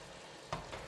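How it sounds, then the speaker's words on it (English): Scallops and asparagus get a quick stir in a wok with the heat just switched off: a soft, steady sizzle carries a single brief scrape of the utensil partway through. "Just give it a stir."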